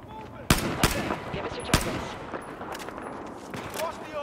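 Gunfire from a weapon in the video game Battlefield 4: a few sharp loud shots followed by quieter scattered shots and distant battle noise, with no voice over the shooting.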